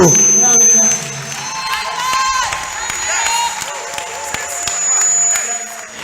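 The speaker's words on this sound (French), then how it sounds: "On applaudit." A church congregation claps and cheers loudly in a large room during a Christian service, with voices shouting over the applause throughout.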